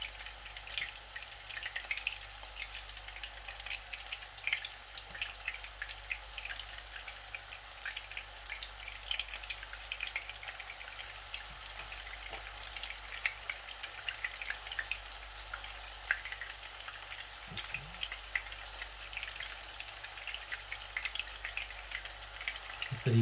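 Chicken gola kababs sizzle steadily in a little oil in a pan, a continuous soft crackle with scattered pops and no voices.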